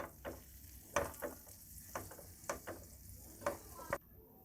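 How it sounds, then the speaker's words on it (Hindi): Flour roasting in butter in a pan over low heat for a white sauce, giving a soft, steady sizzle with faint stirring scrapes and light ticks recurring every half second or so. "मैदा बिल्कुल हल्की आंच पर उस वक्त तक भूनेंगे मैदे को"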